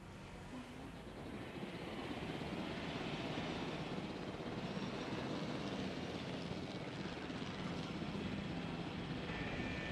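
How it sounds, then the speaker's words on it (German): Helicopter flying in the video game Jurassic World Evolution, a steady whirring rotor and engine drone that swells after the first second and holds loud and continuous throughout. "So, wir probieren's mal mit dem Heli."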